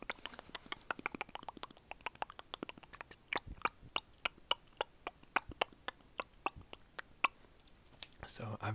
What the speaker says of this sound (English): I think this is like the traditional, like, lo-fi mouth sounds